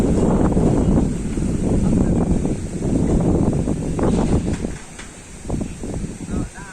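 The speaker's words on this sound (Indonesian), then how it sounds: "Angin guys, angin." Outdoor wind hits the microphone in a heavy, steady roar that eases slightly toward the end, with faint indistinct sounds underneath.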